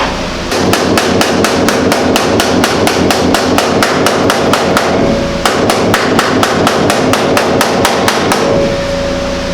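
A hammer strikes sheet metal in rapid, even, loud blows while peening over the formed roof edges of a Model A hot rod shop truck, with one brief pause midway.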